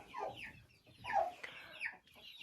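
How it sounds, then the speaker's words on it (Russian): Backyard chickens cluck in short, quiet bursts as they hurry toward compound feed in a coop enclosure, a few separate calls spread over a couple of seconds with no talking. "куры побежали комбикорм кушать"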